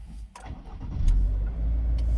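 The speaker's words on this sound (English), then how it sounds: "So now I'm inside the car. I'm going to start it up." A 2022 Subaru WRX engine cranks briefly, catches, and settles into a steady low idle, heard up close from inside the vehicle.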